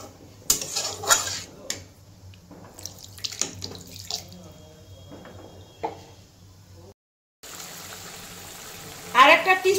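An oily wok is scrubbed with a lemon peel by the sink, with scraping, clanking cookware and running tap water in bursts, then a brief silence before louder rinsing resumes, while a voice talks throughout.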